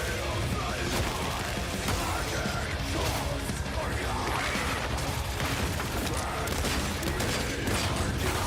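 Shotgun gunfire in a video game trailer: dense, loud bursts of shots and crashing impacts run throughout, mixed with trailer sound effects and a voice underneath.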